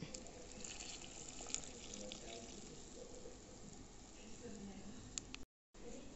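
Water runs steadily into a bowl holding 160 g of chickpea flour, a continuous pouring wash for about five seconds before a brief cut to silence.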